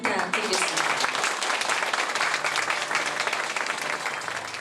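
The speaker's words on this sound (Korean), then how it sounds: "여러분 큰 박수 부탁드리겠습니다." Audience applause at a formal ceremony naming an honorary chair of a Korea visit committee: loud, dense, steady clapping from a full room, holding for several seconds before easing slightly.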